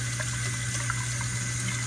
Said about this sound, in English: just run your hot water